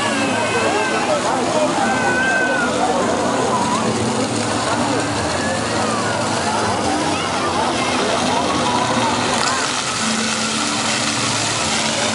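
A small water fountain in a town square in Caldas Novas, a steady rushing and splashing of water that continues throughout, fairly loud and close, with street ambience mixed in.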